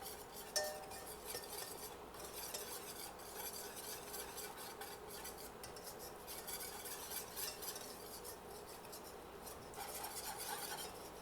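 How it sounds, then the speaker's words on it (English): A low-carb chicken pot pie mixture cooks in a pan while being stirred continuously, a soft steady scraping and faint sizzle with occasional light clinks of a utensil. "So throw that in and just keep stirring this, keep moving it, and we're just going to cook it down"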